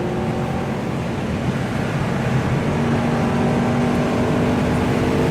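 An Audi R8 accelerates hard through a blind chicane on the Nürburgring, its engine a loud, steady roar with road and wind noise that holds without a break for several seconds.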